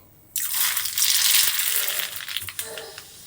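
Mustard seeds drop into smoking-hot oil in a tempering pan for coconut chutney and set off a sudden, loud, close sizzle with crackling pops that slowly eases.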